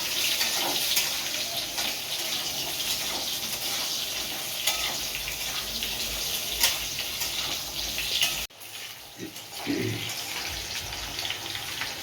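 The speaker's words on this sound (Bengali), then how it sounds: "আলু পেঁপেটা ভাজা ভাজা করে নিয়েছি" Potatoes and papaya sizzle and crackle steadily in a hot pan, a dense frying hiss that briefly drops out before resuming with some stirring sounds.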